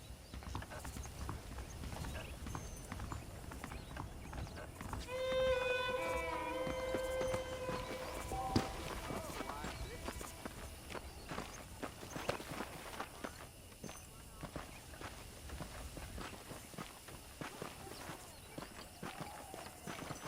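Horse hooves clip-clop at a steady walking pace in Red Dead Redemption, with a short neigh partway through and faint creaking tack, all at moderate, even loudness.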